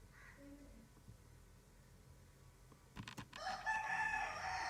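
A neighbour's rooster crows from nearby but not close, rising out of quiet room background near the end, with a few faint bumps before it.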